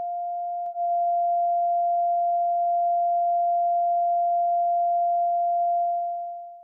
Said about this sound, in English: And on a PAL Atari 2600, it would sound like this.